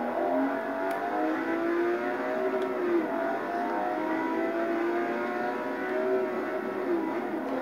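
A Bugatti engine in a racing video game holds a steady, droning whine at high revs, with its pitch wavering slightly as the car races on, and no talking.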